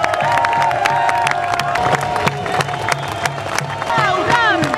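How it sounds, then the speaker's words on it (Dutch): Crowd clapping and cheering at an Occupy Amsterdam gathering outdoors, brisk claps and scattered whoops mixed with voices and shouting, fairly close and sustained throughout with talk running over it. "Zolang ze klappen."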